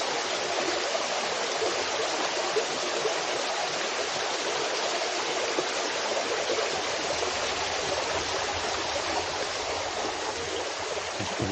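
A steady, unbroken rush of falling water, a broad hissing roar that stays even throughout.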